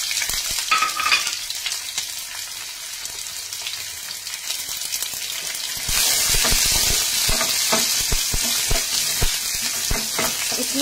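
Onion frying with cumin in hot oil: a moderate sizzle with light scraping at first, then a sudden louder burst of hissing as the onion goes in, followed by steady sizzling and stirring strokes, close by with no talking.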